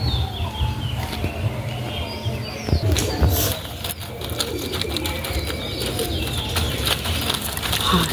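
Pigeons coo in a loft at Nalpur, with a steady murmur of calls, some wing flaps and sharp clicks over a busy, continuous background.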